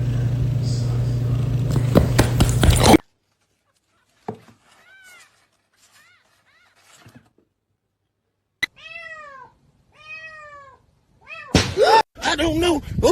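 A house cat meows in a string of distinct rising-falling calls, close and clear in an otherwise quiet room, with bursts of talking and noise before and after.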